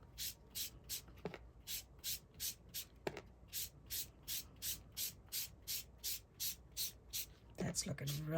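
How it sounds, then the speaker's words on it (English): Color rubbed onto a craft surface by hand, a steady rhythmic series of about eighteen soft scratchy strokes, close and fairly quiet, with a few brief knocks between them. "Try to rub all the way out to the outer edge."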